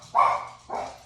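Indoor house dogs giving two quick barks, the first louder and sharper, the second slightly softer after a short pause, close by with no talk over them.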